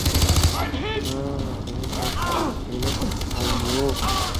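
Rapid bursts of gunfire crackle in the video game Far Cry 3, with speech running over the shots throughout.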